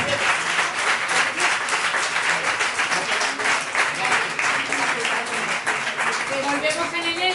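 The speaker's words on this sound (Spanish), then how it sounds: "lo que corresponde es dar un aplauso fuerte a Susana" An audience at a science talk breaks into strong, steady applause, many hands clapping densely for over seven seconds, with voices audible beneath the clapping.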